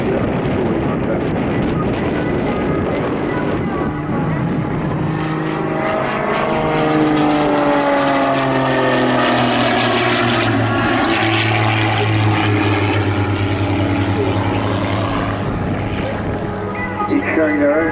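Mudry CAP 232 aerobatic propeller plane performing at the Southport airshow, the engine droning loud and near before its pitch sweeps down as it runs out of airspeed. An announcer talks over it.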